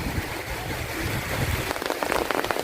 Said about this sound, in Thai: ฝนตกเย็นเย็น